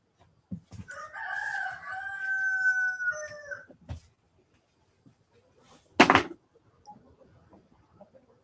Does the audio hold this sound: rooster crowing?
yes